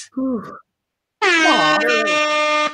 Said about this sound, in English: I need more air horn.